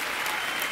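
A TV family game show audience applauds the Jeevan family in a short, dense burst of clapping at steady loudness.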